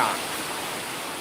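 Rushing water overflows in a steady broadband roar during heavy monsoon rain at Amboli in Konkan, close and continuous for the whole stretch with no pauses.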